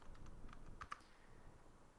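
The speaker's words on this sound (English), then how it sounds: "And we'll type in their zip code as well." Computer keyboard typing, a few soft, quick key clicks clustered close together, faint under a quiet room hiss.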